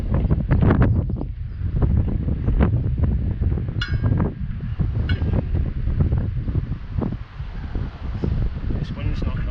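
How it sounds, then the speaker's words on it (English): Wind blows outdoors at a fishing spot, a loud, continuous rumbling buffet across the microphone that barely lets up, with a voice partly buried under it. "this wind's not helping."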